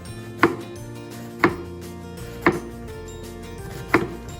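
Knife finely slicing quartered cabbage on a cutting board, four sharp, distinct chops spaced about a second apart, close and clear with no talk.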